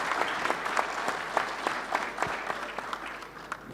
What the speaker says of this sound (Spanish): Un aplauso, por supuesto, para ellos antes de que continuemos.